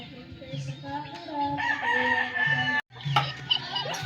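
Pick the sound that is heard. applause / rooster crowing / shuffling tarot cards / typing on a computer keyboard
rooster crowing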